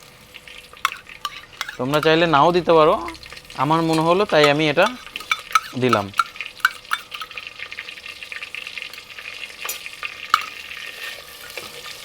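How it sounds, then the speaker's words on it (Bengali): Ginger garlic paste fries in a pan for a handi chicken, a steady low sizzle and stirring running throughout, with someone talking over it in two stretches before the pan carries on alone with faint clinks. "এটা দেওয়ার পর 2 থেকে 3 মিনিটের মতো আমি ভেজে নেব।"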